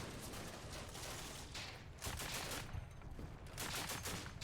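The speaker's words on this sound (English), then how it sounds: "Okay, you have put some fire on the machine gunner." Gunfire rattles in the Combat Mission: Afrika Korps video game as fire is put on a machine gunner, with bursts of shots under a steady battle din, faint and distant.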